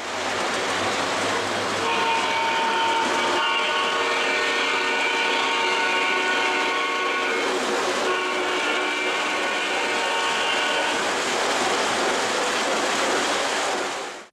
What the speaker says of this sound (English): We got a new train here.